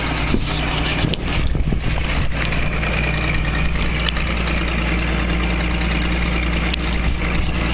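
A 1960s air compressor runs steadily with a loud, continuous mechanical drone and low hum, close by, with no talk over it.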